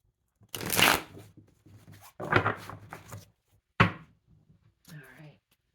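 Tarot cards being shuffled by hand in bursts, three or four separate riffles with short pauses, close and crisp in a quiet room.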